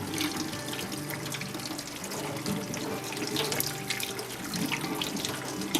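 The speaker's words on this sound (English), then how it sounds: "run it through some cold water to get the beans clean from the" Cold tap water running into a kitchen sink over beans being rinsed clean for anko, a steady close splashing and gurgling stream with shifting texture as the beans are moved.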